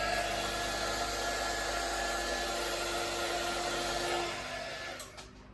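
A heat gun blows a steady, close, broadband hiss of hot air across acrylic pour paint on an enchanted autumn forest swipe piece, holding constant before tapering off near the end.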